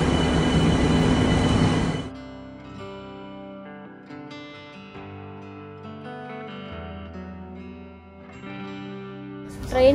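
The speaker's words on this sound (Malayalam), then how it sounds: "നമ്മൾ ട്രെയിൻ വന്നു." Train pulling into a station near Frohnleiten, Austria, opening with a loud rushing roar that gives way to sustained metallic brake squeals and tonal whines as it slows, ending with a short burst of noise.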